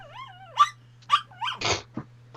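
A dog whimpers indoors with a series of high, wavering whines and short yips, fairly soft over a steady low electrical hum, with a brief rougher burst near the end.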